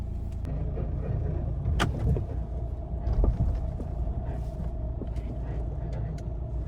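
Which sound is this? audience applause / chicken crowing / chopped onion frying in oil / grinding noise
grinding noise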